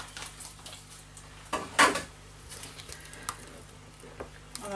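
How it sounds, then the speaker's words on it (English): Hand stirring fragrance into handmade blackberry soap batter: soft scraping and light clinks of a utensil against the container, quiet and close, with one louder knock partway through and no talking. "hand stir this in"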